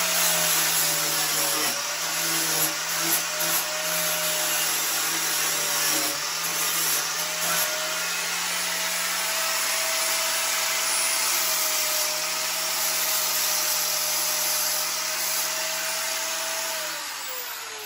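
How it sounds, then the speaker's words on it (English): A power sander smooths burrs off a metal throttle lever part for a John Deere 4020 tractor. It gives a continuous loud whirring hum with a steady pitch, running alone for most of the stretch before easing off at the end. "it has to be sanded smooth with a different sander"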